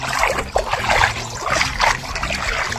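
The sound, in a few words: flowing river water while wading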